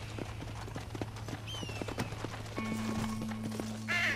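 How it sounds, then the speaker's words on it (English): Horse hooves clip-clop in a steady trot in the video game Red Dead Redemption, close and moderately loud, with a few game chimes and tones layered over the hoofbeats. "This horse always runs off."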